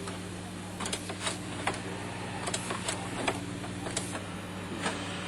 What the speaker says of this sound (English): The wires that go through holes in the circuit boards are clinched from underneath to hold them in